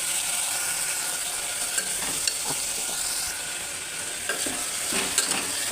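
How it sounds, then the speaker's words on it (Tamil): Chopped tomatoes with turmeric sautéing in a pan for tomato rice, a soft continuous sizzle with intermittent scraping stirs and light taps, no talking. "அரிஞ்சு வச்ச தக்காளியை போட்டு நல்லா வதக்கிக்கோங்க"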